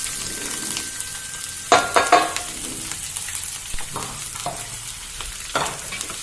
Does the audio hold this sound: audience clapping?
no